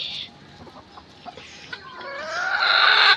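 Chickens cluck in a farmyard, starting with scattered soft calls and building into louder, drawn-out clucking near the end, close by and alone.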